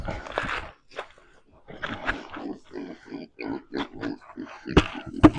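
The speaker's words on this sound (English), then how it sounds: "So I'm gonna dump this out to the pigs." Pigs grunting and snorting as they eat moist feed on a farm, close and irregular bursts of oinks with crunchy chewing between them.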